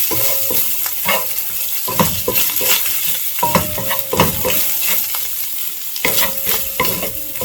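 Hot dog fried rice is stirred in a hot pan, with a constant sizzle of frying under repeated scraping strokes of a utensil against the pan.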